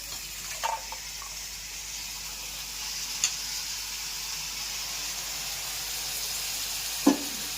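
Boiled vegetables for veg pulao cook gently in a pan, giving a soft, steady sizzle and hiss with a few brief clinks of stirring, alone and without talk.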